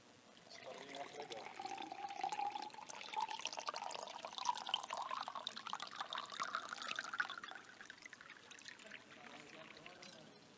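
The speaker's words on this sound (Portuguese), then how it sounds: "O copo é grande, não dá para colocar água no copo aqui embaixo." Water is poured steadily into a large glass for several seconds, with a rising, gurgling trickle that fades out near the end.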